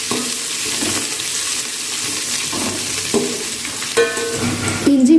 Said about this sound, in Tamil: வெங்காயத்தை சேர்த்துட்டு நல்லா வதக்கலாங்க.